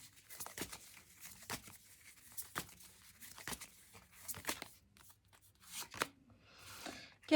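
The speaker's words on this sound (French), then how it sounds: "Les cartes se retournent toutes seules." Tarot cards shuffled and flipped over in a quiet room, a run of crisp papery slaps and riffles spaced about once a second, ending in a denser flurry of shuffling.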